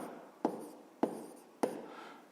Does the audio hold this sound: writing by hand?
yes